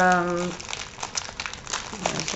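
Rosettes packed in bubble wrap are unwrapped by hand, giving close crinkling and rustling plastic after a brief tone at the start.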